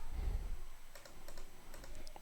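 Typing on a computer keyboard while installing a package for a React JS project, a short run of quiet, scattered keystrokes over a low background hum, with no talking.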